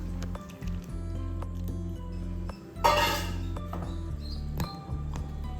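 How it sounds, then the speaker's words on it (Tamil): Jaggery syrup poured into a pot of cooked Chettinadu-style milk kozhukattai, giving a brief wet splash and squishy liquid sound midway, with faint clinks of utensils against the pan before and after. "நல்லா வெந்த உடனே இந்த ஸ்டேஜில் வெள்ளைப்பாக சேர்த்துக்கலாம்"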